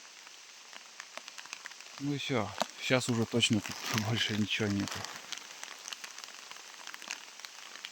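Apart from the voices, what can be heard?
rain falling in a forest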